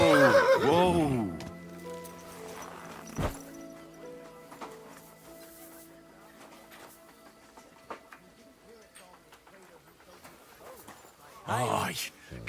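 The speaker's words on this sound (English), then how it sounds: "that looks like a bloody expensive horse" A horse in Kingdom Come Deliverance 2 lets out a loud, close whinny at the start, then hooves clop and scuff faintly, with a second brief whinny near the end.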